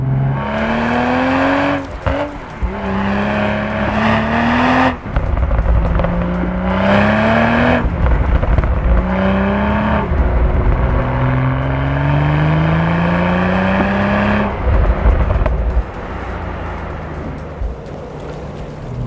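Toyota GR Supra with a manual gearbox driving hard on a mountain pass, its engine loud and close, rising through the revs in repeated pulls with brief lifts at each gear change, without any talk.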